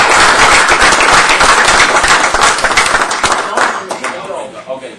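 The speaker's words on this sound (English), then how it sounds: "Round of applause for Pat, please." Loud, dense applause and clapping from attendees at a town board meeting honoring Pat, nearby and sustained before thinning out toward the end, with voices mixed in.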